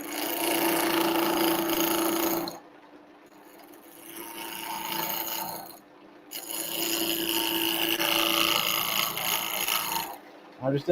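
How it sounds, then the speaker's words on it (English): A roughing gouge cuts wood on a lathe while turning Christmas decorations: a loud, close, continuous rasping scrape broken by two short pauses and a brief stop near the end. "So back in here with the roughing gouge."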